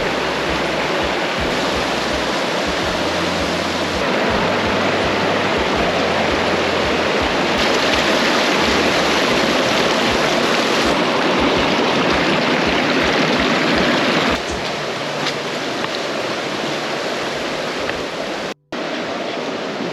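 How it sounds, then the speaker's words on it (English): Big Nantahala Creek in a national forest rushes by close and loud, a dense, unbroken roar of flowing water that holds steady before cutting out abruptly near the end. "This is Big Nantahala Creek, and it is absolutely beautiful."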